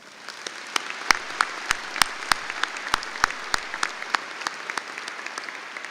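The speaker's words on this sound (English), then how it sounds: "Let's give them all a round of applause." Audience at a high school graduation ceremony applauding, a thin scattered clapping with distinct individual sharp claps standing out near the microphone over a softer crowd wash that gradually fades.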